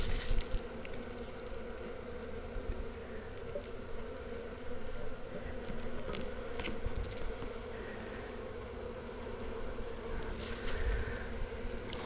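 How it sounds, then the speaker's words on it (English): A steady, dense buzz of many honeybees pouring out of a shipping package during hive installation, humming continuously with occasional louder individual bees passing near, with no talking. "when I pull this can, there's bees coming out"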